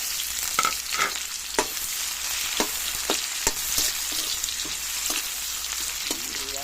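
Onions sizzling in a very old, blackened frying pan with garlic, a steady crackling hiss with occasional sharp pops and stirring scrapes, close and continuous.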